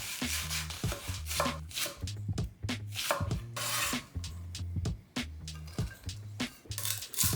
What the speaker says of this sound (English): Start by peeling and dicing the onion.